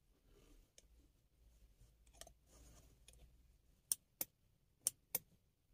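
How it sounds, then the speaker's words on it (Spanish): An automotive relay tested with a 9-volt battery clicks as its coil energizes, four sharp, crisp snaps in two close pairs near the end, preceded by faint handling ticks and low rustle. "Ese es el clic que se escucha. Eso es porque se está magnetizando nuestra bobina"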